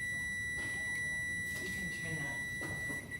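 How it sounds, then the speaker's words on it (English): A kitchen timer beeps steadily in a home kitchen during baking, a high continuous electronic tone running under faint background noise and movement. "Sorry, that was our timer."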